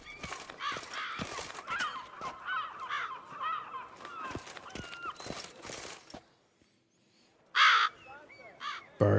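Crows cawing in The Witcher 3: Blood and Wine, a run of harsh, repeated caws for several seconds, a brief lull, then a few more loud caws with game ambience around them.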